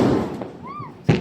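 Diwali firecrackers go off at close range in a burst of crackling noise, followed by a lone whistling tone and then another loud pop near the end.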